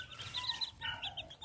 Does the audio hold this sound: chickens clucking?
yes